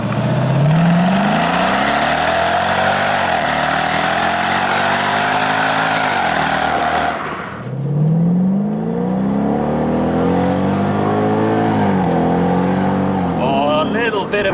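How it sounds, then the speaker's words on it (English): A Mercedes SLK55 AMG on a road pulls hard with a loud rising engine roar, then cracks sharply from the exhaust on the upshift before climbing again. "Bit of a cheeky crack on upshift."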